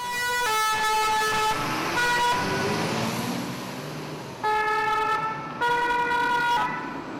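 Wailing two-tone sirens of a fire ladder truck and an ambulance leaving a fire station in Grenoble, loud and close, the alternating tones cutting in and out over steady traffic and engine rumble.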